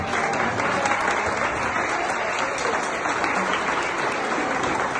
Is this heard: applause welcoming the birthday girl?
yes